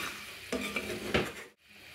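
Meat pie filling with coriander leaves stirred in a hot pan, soft scraping strokes over a steady sizzle, with a couple of louder utensil scrapes before a brief quiet gap.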